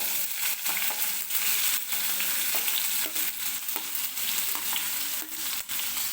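Chopped onion frying in hot oil with crushed garlic and cumin for a capsicum dry curry, a loud dense sizzle broken by repeated sharp stirring clatters, close up with no talking.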